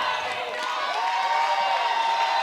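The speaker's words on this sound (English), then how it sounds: "Crowd really getting into it here at Rhodes" Crowd cheering and shouting at a women's college softball game between Alabama and Virginia Tech at Rhodes, a steady, fairly loud roar of many voices filling the stands throughout.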